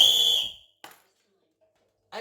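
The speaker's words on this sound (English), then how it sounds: "The whistle." A sharp, bright whistle blast sounds first, then fades to near silence, followed by brief scraps of faint sound near the end.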